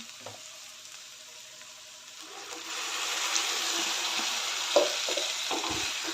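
Spinach paste going into a hot frying pan, the sizzle swelling louder partway through as it is mixed, with occasional spoon knocks against the pan.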